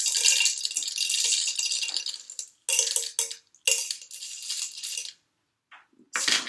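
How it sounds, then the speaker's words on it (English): Dried peas rattle inside a homemade can shaker, shaken in loud bursts separated by short pauses, close and crisp with no talking. "I'm going to put the peas in the can."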